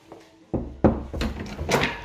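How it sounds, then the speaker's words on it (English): Several dull knocks land on a door as contestants are called in a game-show setting: a handful of loud, irregular thuds in quick succession with no talking. "Let's just give him a knock."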